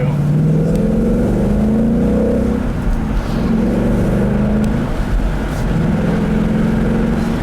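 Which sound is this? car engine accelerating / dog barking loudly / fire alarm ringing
car engine accelerating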